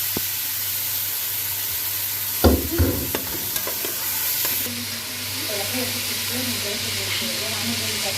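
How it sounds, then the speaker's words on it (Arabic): Rice stir-fried hard in a hot pan at home, a steady loud sizzle with scraping stirs and a clatter partway through, close and continuous with no talk over it. "انا بس الرز ده اهو وهشوحه جامد جدا"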